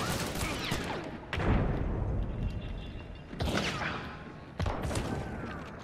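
Gunfire in the video game Hunt: Showdown: about four heavy, booming shots at irregular intervals, each with a loud crack and rumbling tail, over a steady noisy background.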